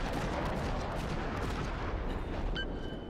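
Cruiser main guns firing in World of Warships, a dense continuous rumble of heavy naval gunfire and booming impacts, loud and sustained.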